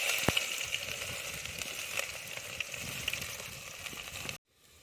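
Onions frying in hot oil with mustard seeds, fenugreek and curry leaves for a Karaikudi village-style dried anchovy curry, giving a steady close sizzle that runs unbroken and then cuts off abruptly near the end.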